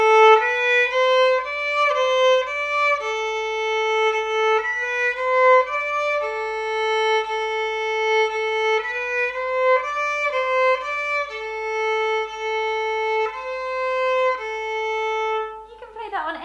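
A violin plays a slow, simple melody of sustained bowed notes, clear and close, with no talking.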